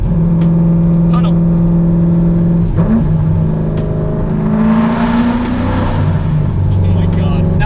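A C5 Corvette with a loud aftermarket exhaust revs and drones inside a tunnel, its steady engine note rising and falling while a voice talks over it.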